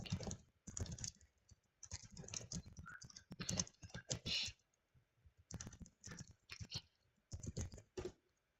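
Someone types on a computer keyboard in short bursts of rapid clicking keystrokes, separated by brief pauses. The sound is close and fairly quiet.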